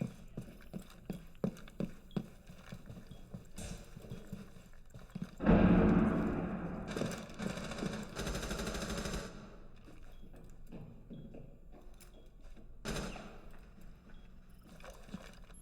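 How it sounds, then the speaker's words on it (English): Gunfire in Rainbow Six Siege during a collegiate match, with sharp scattered shots, a loud burst of rapid fire midway and more shots later, all fairly faint and distant among game noise. "We're hearing gunshots"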